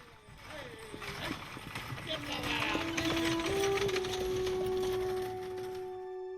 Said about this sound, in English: a horse-drawn coach transports us to the days of log cabins and covered bridges